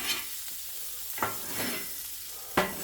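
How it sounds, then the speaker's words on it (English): Cayenne peppers frying in hot bacon fat, a steady crackling sizzle with three sharp stirring scrapes spaced about a second apart, close and alone without talk. "we'll get those going in the bacon fat"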